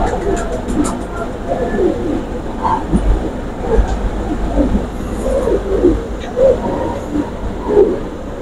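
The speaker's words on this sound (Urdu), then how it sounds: "یہ کبوتر سہارنپوری کبوتروں میں سے ہے دوستو" Saharanpuri pigeons give soft, low cooing calls in a series of short, rounded notes spread across the stretch, with a steady background murmur and occasional rustling around them.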